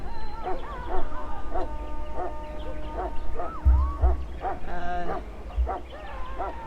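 A hound in Dragon Age: Origins barks and yips repeatedly in an uneven series of sharp, fairly close calls, with a few whimpering notes between them.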